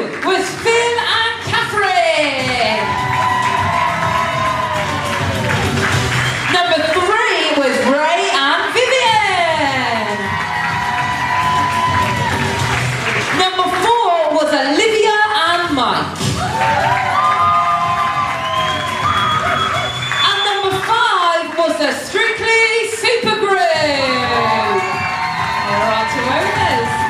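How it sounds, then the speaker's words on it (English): Audience at a Strictly Come Dancing show at Reighton Sands, 2019, clapping and cheering loudly and steadily for the whole stretch, with whoops, shouts and children's high yells rising over the constant applause. "One last time, big round of applause, everybody."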